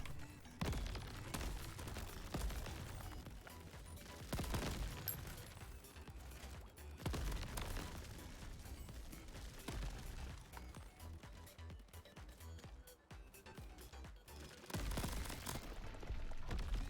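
Dense bursts of game gunfire and impacts from Crab Champions keep going throughout a crab battle, layered over a busy soundtrack, with loud volleys swelling at intervals.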